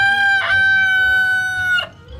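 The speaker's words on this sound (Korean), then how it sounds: "무랑이가 무서웠던 닭울음 소리." A rooster crows once, loud and close, a long, sustained cock-a-doodle-doo that holds steady before trailing off.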